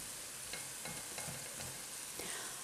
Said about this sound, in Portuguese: Agora eu vou colocar o alho